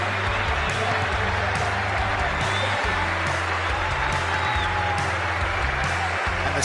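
A cricket crowd in Sydney stands and applauds a batsman, producing loud, sustained clapping and cheering throughout, with a commentator talking over it.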